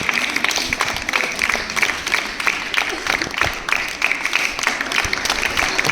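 Students and guests at a girls' higher secondary school event for Girl Child Day clap continuously, a dense, lively patter of many hands that keeps a steady level from start to finish.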